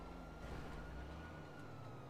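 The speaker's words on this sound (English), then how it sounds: "I hear sirens." Police sirens wail in the GTA RP video game, a steady tone holding over a low, continuous rumble of game noise, moderately faint throughout.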